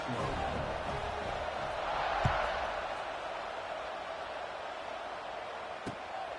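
A college football stadium crowd in College Football 26 roars as a steady, diffuse wash of noise, moderately loud and unbroken, with a couple of faint thuds.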